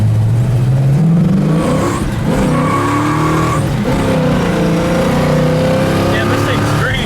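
A 1966 Pontiac GTO with a tight-ratio four-speed revs hard and accelerates, the engine note rising and falling close by, with someone talking over it.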